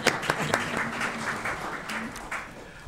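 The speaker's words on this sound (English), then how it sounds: "yeah, you may clap." A room of people applauding at a board of trustees meeting, a dense patter of clapping that holds steady with a few voices underneath.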